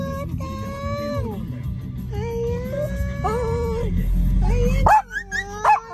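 Several dogs at a dog run in Showa Kinen Park, Tachikawa, Japan, whine and yip with high-pitched calls, ending in a few sharp barks. People talk nearby, with a rumble of outdoor noise in the background.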